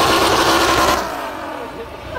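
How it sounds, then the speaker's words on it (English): A damaged car engine in its failing moments gives a loud, rough, harsh roar for about a second, then drops to a lower, ragged running sound. "And you can start hearing the car eat itself."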